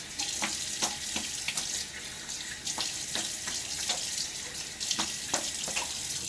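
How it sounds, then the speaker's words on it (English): A bathroom tap runs steadily as a Gillette Rocket UK Gold safety razor is rinsed under it, with repeated splashing knocks as the razor moves through the stream. "let's rinse that off."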